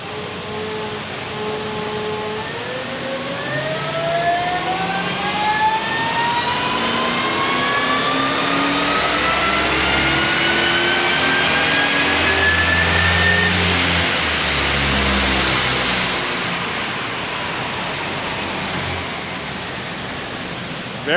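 A supercharged Ford GT R-spec, stock, revving hard on a dyno, its supercharger whine climbing steadily over a loud sustained engine roar before easing off, close and powerful with no voices.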